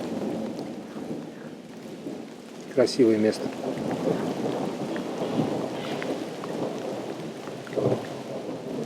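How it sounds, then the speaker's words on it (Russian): Steady rain patters over a low rumbling of thunder, with a brief spoken remark partway through. "Где-то рядом гроза, гром грохочет."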